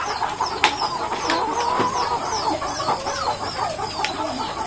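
Several chickens cluck and chatter continuously nearby, with overlapping calls and sharp clucks over a steady outdoor background.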